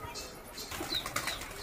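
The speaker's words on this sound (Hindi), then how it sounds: "देखो गाइस उड़ गए कबूतर" Pigeons take off in a quick burst of flapping wings, several soft beats close by over a quiet background.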